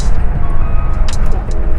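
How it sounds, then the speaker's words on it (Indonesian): A vegetable-laden truck passes on a rural road at night near Cijeruk, a loud continuous engine rumble and tyre roar swelling close by, with a brief brighter hiss midway. "Nah, ini truk muat sayur."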